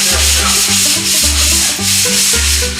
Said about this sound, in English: That really sands it down good, but do you see how quick that is to sand that down using this tool?